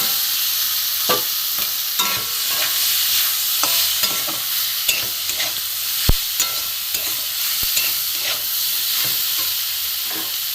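Fried vegetables being stirred into spices in a hot pan, with a loud, steady sizzle and hiss cut by regular spatula scrapes and a few sharp knocks against the pan.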